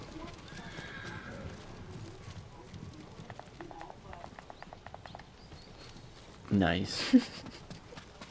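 Horse hooves clip-clop at a run in the samurai game Ghost of Tsushima, with a loud whinny near the end, under ongoing conversation.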